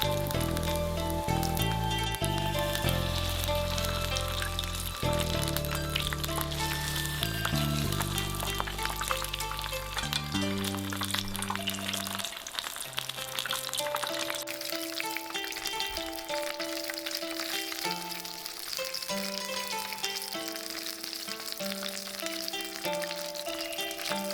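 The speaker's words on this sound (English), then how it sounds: "place them in the oil for deep frying" Oil at about 170 degrees Celsius sizzles and crackles steadily as Japanese shrimp and corn fritters deep fry, with background music playing throughout.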